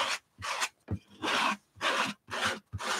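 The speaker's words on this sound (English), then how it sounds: "So I just scraped the remaining off on here." Leftover gesso is scraped off a tool onto a paper page in an art journal, a series of short rasping strokes in a steady rhythm, close up and moderately loud.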